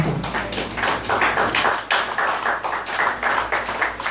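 Church congregation applauding in steady, dense clapping that fills the whole stretch, close and fairly loud, with no talk over it.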